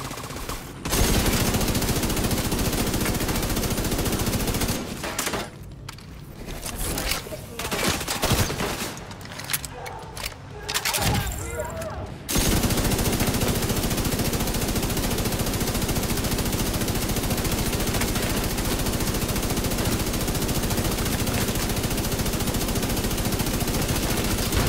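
Heavy automatic gunfire roars almost without pause in The Division 2, a dense, loud barrage that drops out briefly in the middle and then returns at full intensity.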